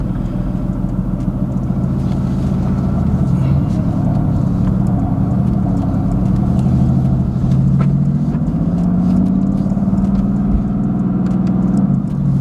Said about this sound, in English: The exhaust is pretty much open all the way, and we're in manual mode.